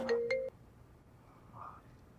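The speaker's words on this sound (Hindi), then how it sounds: "प्रियंका का फोन।" A phone rings in an indoor drama scene, a short bright electronic ringtone burst lasting about half a second and then cutting off, leaving quiet room tone.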